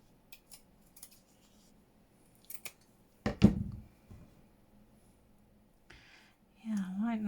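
Scissors cutting down crafting material for fabric embellishments, with a few short snips and one louder cluster of cuts, close and fairly quiet, with soft talk starting near the end.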